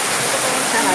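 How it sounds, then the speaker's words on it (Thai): Heavy rain pouring down close by, a loud, dense and continuous hiss that stays even and unbroken throughout the short stretch. "ฝนตกหนักในนี้"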